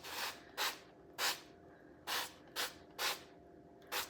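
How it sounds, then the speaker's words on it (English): Six or seven short hissing bursts from an oil spray can onto an air fryer pan, quick and fairly close, separated by brief pauses of quiet. "I am going to spray the bottom"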